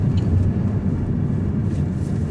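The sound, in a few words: Opel Grandland X 1.2 3-cylinder turbocharged engine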